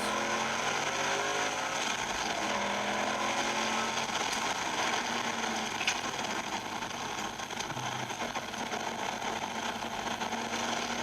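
A racing green HSV VX GTS 300 runs steadily down a road, its engine a continuous drone with broadband road and wind noise throughout, without talk.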